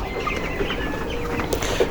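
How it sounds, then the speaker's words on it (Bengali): Chickens on a poultry farm cluck softly in short scattered calls over a low background murmur of the flock, close but not loud. "ছোট মুরগির দিকে যাব দেখি কি ছোট মুরগির কি অবস্থা"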